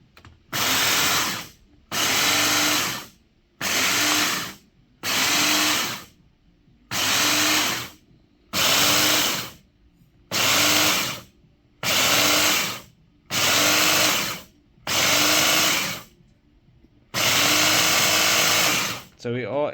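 A power grinder works a pneumatic cylinder part in an outdoor barbecue area, running in about eleven loud, steady bursts of a few seconds each, separated by brief pauses.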